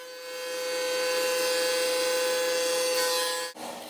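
A power saw cuts the curved side of a wooden serving tray from half-inch stock in one steady, loud whine. The motor holds a constant tone with grinding wood noise and stops abruptly near the end.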